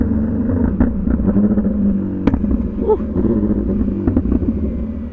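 A Brutale 1000RR motorcycle fitted with a full titanium Arrow exhaust rumbles loudly on a night ride, its engine pulsing with crackling pops and one sharp bang midway.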